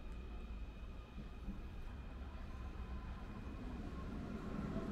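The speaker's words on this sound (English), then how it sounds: "we saw a U-bahn train pulling out there" A Munich U-Bahn subway train pulls out of the station, a steady low rumble and hum of rolling rail cars, moderately distant and unbroken, with no voices.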